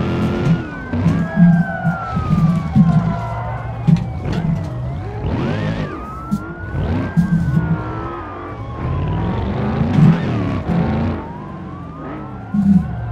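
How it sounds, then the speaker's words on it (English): In BeamNG Drive, wailing police sirens sweep up and down over the loud, revving roar of a 1,200-horsepower Hellcat V8 swapped into a minivan, surging and fading as vehicles pass close by. "hearing a V8 like screaming coming towards you with police sirens"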